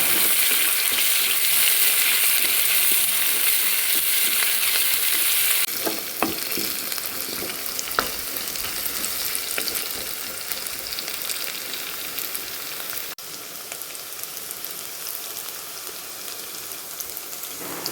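Chopped shallots fry in hot oil in a pan for a leafy thoran, a loud, dense sizzle like heavy rain that eases a little after a few seconds, broken by occasional utensil scrapes.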